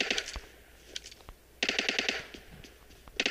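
Bursts of automatic gunfire in the battle royale game PUBG, rapid rattling volleys with scattered single shots, fairly distant and moderately loud, no talk.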